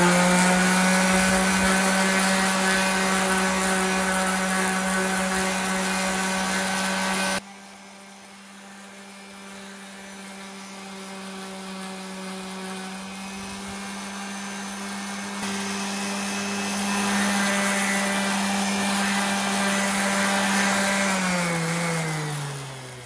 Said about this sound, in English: now what I'm gonna do is sand it out